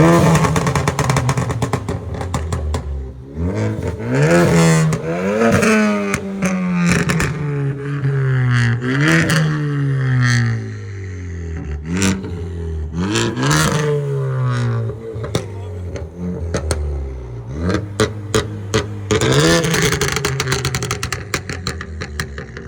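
A straight-piped 2014 Ford Focus ST turbo engine revs hard and repeatedly, rising and falling in loud, raspy sweeps with crackling bursts, close and continuous throughout.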